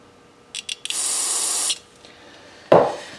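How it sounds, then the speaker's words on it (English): A few short clicks, then a steady hissing blast of carburetor cleaner spray for under a second, blown through a Honda lawn mower carburetor, followed by a quiet pause and a sharp clunk. "I'm going to blow through some more carburetor cleaner spray."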